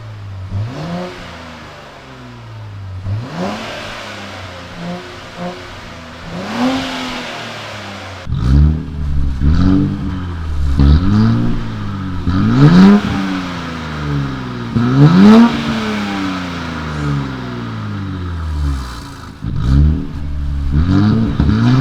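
A Nissan Z engine with no exhaust tips revs repeatedly, climbing and falling in loud, raspy bursts that grow stronger after a quieter idle at the start.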